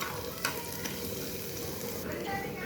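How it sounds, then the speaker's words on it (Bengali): Chopped ginger and a pinch of panch phoron fry in hot oil in a home kitchen, giving a steady broadband sizzle with a few faint stirring clicks, close and moderately quiet, with no talking. "কুচি করানো আদাটা দিয়ে দিলাম। আদাটা একটু ভেজে নেব।"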